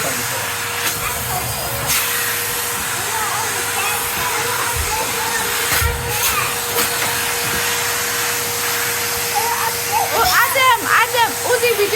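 A Henry Hoover vacuum cleaner runs with a steady loud whooshing hiss and a constant whine, with people talking over it throughout.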